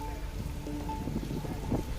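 Steady heavy rain pouring down during Cyclone Tauktae in Saurashtra, Gujarat, a dense continuous wash of hiss and patter with a faint tonal hum beneath, no pauses throughout.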